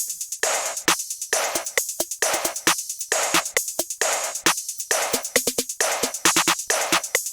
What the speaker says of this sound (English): for the last drum element I added this extra hi-hat that sounds like this